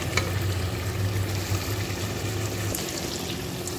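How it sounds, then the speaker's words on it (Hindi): Fish frying in a pan with crushed cumin gives a soft, steady sizzle and crackle, with a low hum running underneath throughout. "ये देखें जी हमारी फिश कितनी अच्छी भून गई है"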